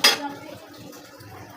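Red amaranth greens stirred in a cooking pot with potato and dried fish, a sharp metal clank at the start followed by faint scraping and stirring sounds.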